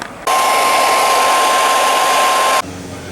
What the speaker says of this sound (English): now I'm going to slide this heat shrink up and shrink it on